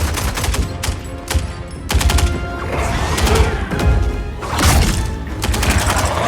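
Bursts of rapid automatic gunfire from soldiers fighting demon warriors in the Mortal Kombat video game, loud and close, with repeated volleys and crashing impacts layered throughout.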